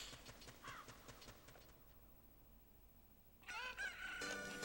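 Chickens clucking and a rooster crowing in a video game, quiet squawks and clucks at the start and again near the end, with a calmer gap between and no speech.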